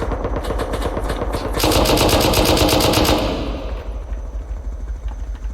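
Rapid machine gun fire in the survival game Rust, a helicopter fight near an outpost, with steady bursts that swell louder midway and then fade into scattered distant shots.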